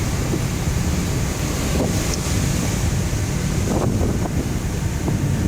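Wind roars continuously at high volume with the wash of rough sea waves underneath during a typhoon, a steady stormy rush without pause.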